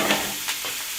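Broccoli and kale sizzling in a hot pan while being stirred, a dense close hiss with a couple of short scraping stirs, no talk.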